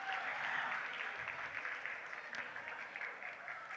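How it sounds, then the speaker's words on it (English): At an inter-school elocution contest, the audience claps for the day's winners. The steady applause sounds faint and distant and holds evenly for a few seconds. "Let's give them a round of applause."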